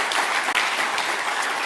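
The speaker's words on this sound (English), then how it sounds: "So a round of applause for you guys." Audience applause at a political conference rally, a broad steady wash of many hands clapping throughout, loud and continuous with a brief dip near the middle.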